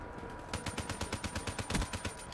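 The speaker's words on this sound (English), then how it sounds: "This gunfire is quite slow." Rapid bursts of gunfire in Black Ops 3 multiplayer, a steady run of about fifteen evenly spaced shots after a brief quiet start, loud and close.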